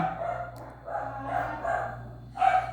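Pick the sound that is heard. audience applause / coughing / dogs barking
dogs barking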